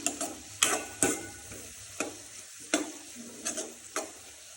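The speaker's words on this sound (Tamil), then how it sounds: "இப்போ வெங்காயம் வதங்கிடுச்சு." Onions sautéing in a pan for a chicken fry: a spoon clicks and scrapes against the pan in irregular strokes over a soft, low sizzle, close up with no voices.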